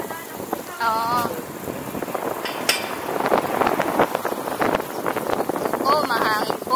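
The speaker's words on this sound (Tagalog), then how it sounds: "Oh, mahangin po." Gusty wind buffets the microphone in a rumbling roar during a bicycle ride in Randers, Denmark, while people talk over it, with a couple of brief higher-pitched sounds.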